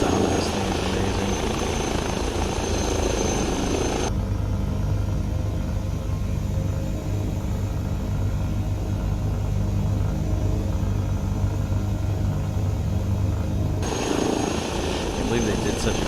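An H160 helicopter's steady rotor thump and engine rumble in a flight simulator fill the whole stretch, loud and close, with the tone changing in the middle section.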